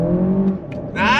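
Lexus RX 500h F Sport in sport mode pulls hard under throttle, a steady engine drone rising in pitch, then a brief dip and a brighter surge of revs near the end.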